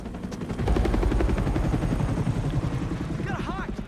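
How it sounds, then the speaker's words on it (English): Rapid, heavy rotor thumping from a helicopter in the Spider-Man 2 video game, loud and close throughout, mixed with other game sounds and a talking voice. "They have a fucking helicopter out."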